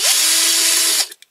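A power drill fitted with a smaller bit spins up and bores steadily into a Corgi Toys FC-150 Jeep hydraulic tower wagon for about a second, then stops, followed by a couple of faint clicks.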